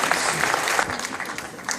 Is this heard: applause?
yes